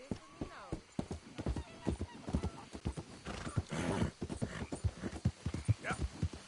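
A horse in Red Dead Redemption 2 clops along with uneven hoofbeats and whinnies, while people talk over it throughout.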